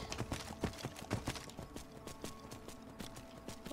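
Horse hooves trotting in a video game, a soft, even run of clip-clop beats, faint and steady throughout without talk.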